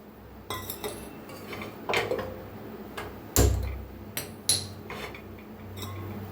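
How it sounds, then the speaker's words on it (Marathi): A metal cooking pot is set down in a home kitchen during sago papad preparation, with several light clinks and one heavier thud near the middle. The sounds are close, and no one speaks. "तर आता इथे ठेवलेलं आहे पातेलं"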